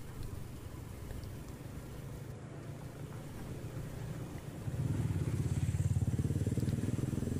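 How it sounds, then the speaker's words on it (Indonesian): A motorcycle ride on a homecoming trip, with a steady engine drone under heavy wind buffeting on the microphone that grows louder and fuller partway through, and no talk. "karena kita ini pakai motor guys"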